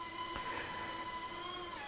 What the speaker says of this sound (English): There's a train going through.